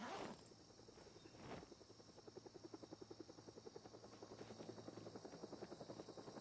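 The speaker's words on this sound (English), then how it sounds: "Oh, that's the helicopter." A video game helicopter passes overhead with a rapid, steady rotor chop that builds in the background and continues at a moderate, even pulse, with a couple of sharp hits near the start.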